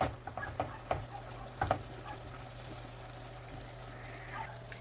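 Sopes cook quietly in a pan, giving off a faint, steady sizzle broken by a few light clicks and taps near the start.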